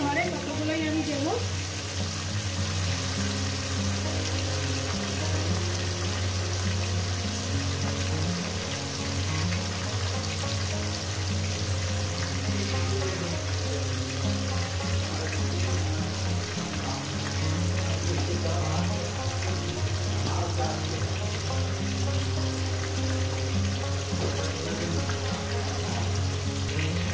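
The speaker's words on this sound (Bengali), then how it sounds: "প্রথমে মাছের মতো আমি এগুলো ভেজে নেব" Bhetki fish bones frying in oil in a pan, with a continuous, close sizzle and crackle that holds steady and fairly loud throughout.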